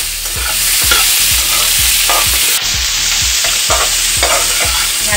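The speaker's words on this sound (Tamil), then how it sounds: "ஹை ஃப்ளேமில் வச்சு நல்லா வதக்கிக்கங்க" Ivy gourd (kovakkai) sautés over a high flame with a loud, close sizzle and rapid, regular scraping strokes of a spatula against the pan, with no voices.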